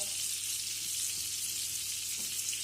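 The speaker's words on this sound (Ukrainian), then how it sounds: "І все, тепер гарненько воно смажиться." Steady high hiss of rice fritters frying in a hot pan, a continuous sizzle with faint occasional pops and a low hum underneath.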